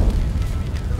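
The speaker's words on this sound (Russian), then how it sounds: "Это взрыв." Explosion in The Godfather II video game, a short loud low rumbling boom that fills the second and decays without a sharp attack.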